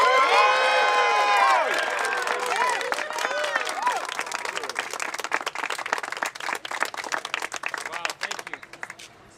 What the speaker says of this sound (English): Please join me in a round of applause and a loud cheer for our next New York State Senator